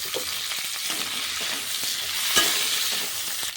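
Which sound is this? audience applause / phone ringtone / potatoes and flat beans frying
potatoes and flat beans frying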